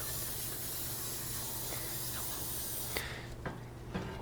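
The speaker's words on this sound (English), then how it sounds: "Just one more spray and then I get all that material cleaned off." Hissing spray from a can steadily cleaning stuck-on material off a 2009 Ford Ranger transmission pan, continuous and close for about three seconds, then cutting off and followed by a few short bursts.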